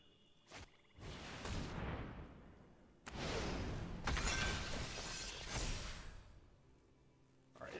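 A Glass Casket card effect in Magic: The Gathering Arena bursts open with loud crashing, shattering glass layered with whooshes in several surges, then settles into quiet.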